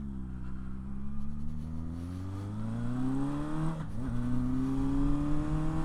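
Motorcycle engine on a cruise, steady mid-level drone that rises in pitch as the rider accelerates, briefly dips at a quick gear shift, then climbs again; close and continuous with no talk.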